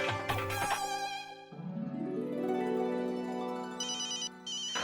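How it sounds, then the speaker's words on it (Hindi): A musical ringtone plays on its own, a bright electronic melody with sustained tones that loops without any talking over it. "है जेठालाल का फोन होगा।"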